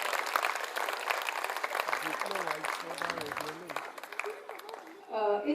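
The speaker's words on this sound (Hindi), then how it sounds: "उन लोगों के लिए एक जोर से ताली हो जाए" Audience applause at a 25th anniversary celebration of a children's Balvikas program, a steady wash of clapping under a speaking voice and music, with a brief swell near the end.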